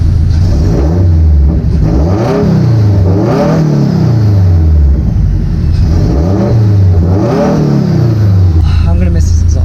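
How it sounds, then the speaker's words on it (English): Subaru FA20 engine with aftermarket exhaust, revved several times in a row: loud, close rising-and-falling swells of throaty exhaust note over a steady idle, ending back at idle. "let's go ahead and give it a rev."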